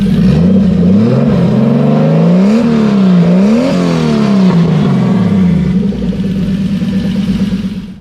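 A turbocharged BMW E30 engine runs loud and close after an oil change, holding a steady note with smooth rising and falling revs, then settling toward the end with no talking over it.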